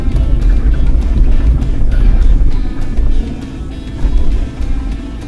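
A stock Ford Explorer with no lift kit and all-season tires climbs an off-road trail at McLean Creek, its engine a low, loud rumble with bumps and wind buffeting the microphone throughout.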